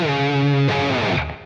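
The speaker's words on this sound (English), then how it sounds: "turn on that distortion" A heavily distorted electric guitar chord from Ghost's "Cirice" rings out, then shifts to a new chord that sustains and slowly fades, played alone.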